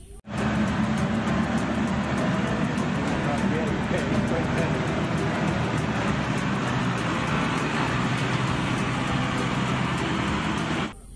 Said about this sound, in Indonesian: Ini adalah forklift.